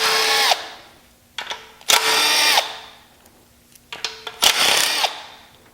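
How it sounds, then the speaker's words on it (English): Power tool spinning off 10 millimeter oil pan bolts on a Chrysler 3.2/3.6 front-wheel-drive engine, several loud whirring bursts with a ratcheting edge, separated by short quiet gaps. "So go ahead and start taking those 10 millimeter bolts off."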